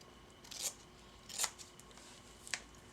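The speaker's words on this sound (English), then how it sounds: "I'm just going to cut a square of this" Scissors cut a square of vintage lace: three or four short, crisp snips spaced out over a few seconds, close up against a quiet background.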